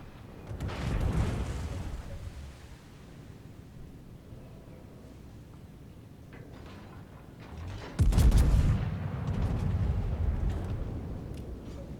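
Heavy battleship gunfire in World of Warships, a naval slugfest with big guns: broad booming salvos around the first two seconds, a quieter rumbling stretch, then a sharp loud blast near eight seconds rolling into sustained thunder.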